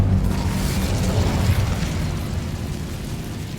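Incendio fire spell from Hogwarts Legacy, a loud roaring burst of flame that starts strong and slowly fades over a few seconds, with no one talking.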